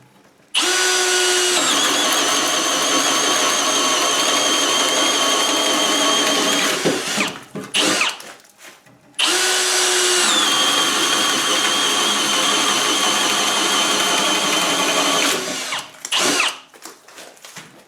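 An M18 FUEL brushless 1/2-inch cordless hammer drill whines loudly at full speed boring holes in lumber, in two long bursts of about six seconds each, separated by a short pause, with no talking.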